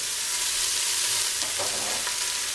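Six pounds of ground turkey hits a hot pan for chili, giving a loud, continuous, hissing sizzle heard close up, with no voices.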